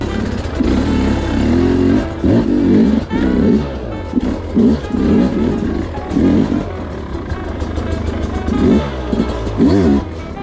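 Engine of a 2025 Sherco SE300 Factory two-stroke dirt bike on a rocky trail, revving in loud, uneven bursts that rise and fall close by, with no talk over it.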